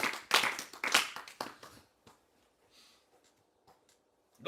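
Church congregation clapping to acclaim the Lord during a teaching service, a burst of loud, dense handclaps for about two seconds that quickly fades to scattered faint claps and near silence.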